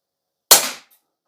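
A single sharp shot from a compact CO2 blowback BB pistol, a loud crisp crack with a quick decaying tail, alone in silence.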